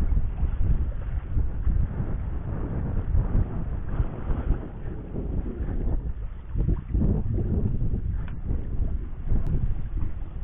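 Steady, loud wind rushes past a sailboat at sea off Capo Teulada in Sardinia, a continuous roar with gusty swells and no voices.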